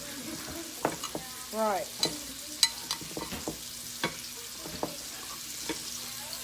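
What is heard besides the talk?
shrimp frying in a pan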